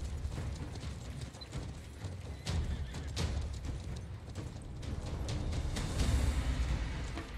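Horse galloping in the video game Conqueror's Blade, rapid repeated hoof thuds mixed with clanking, mechanical game noise, fairly steady and close throughout.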